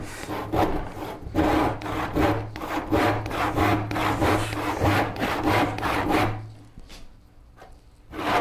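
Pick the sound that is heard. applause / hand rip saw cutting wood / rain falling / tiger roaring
hand rip saw cutting wood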